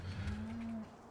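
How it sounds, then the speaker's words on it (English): A single loud, low moo from a cow in a farm game, close and steady for under a second before trailing off. "You are a very noisy cow"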